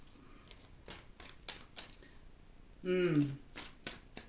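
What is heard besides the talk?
tarot cards being shuffled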